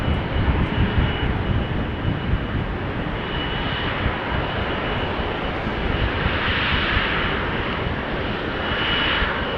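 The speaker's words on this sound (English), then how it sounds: "we are seeing the KLM 777 on the move" A KLM Boeing 777 airliner taxis at Amsterdam Schiphol Airport, its jet engines giving a loud, steady broadband roar and whine that swells slightly, heard alone at moderate distance.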